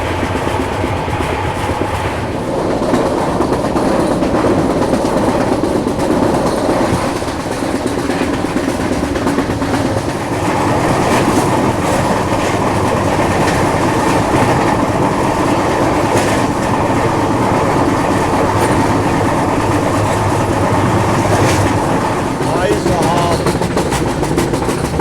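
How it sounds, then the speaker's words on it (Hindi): The Kerala Sampark Kranti Express races fast along the rails, its loud, steady rumble and rhythmic wheel clatter filling the whole stretch close by without a break. "केरला संपर्क क्रांति एक्सप्रेस ज़बरदस्त भाग रही है"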